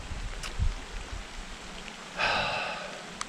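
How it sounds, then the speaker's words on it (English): Rain falling on a remote hiking trail in the Scottish Highlands, a quiet diffuse patter with a few thuds near the start, then a brief louder hiss of rain or wind gusting close by. "it's raining already"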